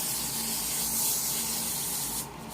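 A continuous close hiss of hairspray from an aerosol can, steady for about two seconds before cutting off abruptly.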